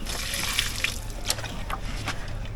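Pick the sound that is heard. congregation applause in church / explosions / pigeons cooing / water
water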